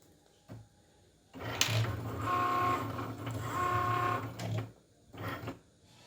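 A Cricut machine draws on a mug with an infusible ink marker, giving a steady mechanical whir and hum with short pauses and motor shifts, close and fairly loud, with no talk.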